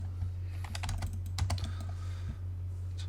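Keys clacking on a computer keyboard during an AutoCAD drawing session, a short burst of fast, close key presses followed by a few slower taps over a steady low electrical hum.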